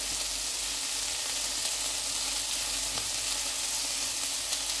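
Chicken satay skewers cooking over a fire, with steady close sizzling and frying crackle that runs without a break, no voices.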